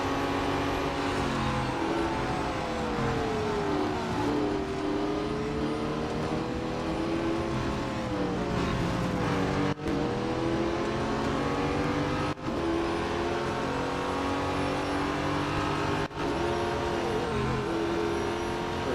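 Race car engines roar continuously in Real Racing 3 during a Duqueine D08 race, a loud, close engine note rising and falling in pitch as the car accelerates and shifts, with no talk over it.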